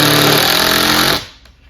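A power drill drives a 1 5/8 inch exterior screw with a Phillips bit, a loud close whirring burst of about a second that cuts off abruptly.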